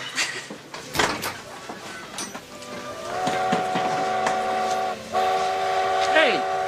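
A train rolls past with a rumbling build-up, then a long, loud multi-tone whistle sounds in sustained blasts ending in a falling wail, with brief voices in the background.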